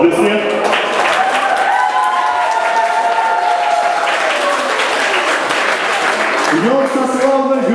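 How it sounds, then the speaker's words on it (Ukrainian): Crowd applause and cheering at a Greek Catholic pilgrimage from Vitebsk to Polotsk, loud and sustained, with a voice and sung or drawn-out tones carrying over it throughout. "Аплодисмент."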